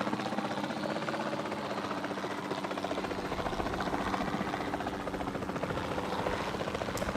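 A helicopter in the video game Jurassic World Evolution 2 runs steadily throughout, its rotor chop and engine whine holding a constant, fairly loud level with no talk over it.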